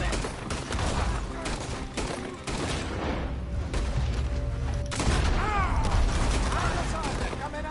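Dense, rapid gunfire crackles throughout a town shootout in the video game Red Dead Redemption 2, with booming shots layered over steady ambient noise and characters shouting.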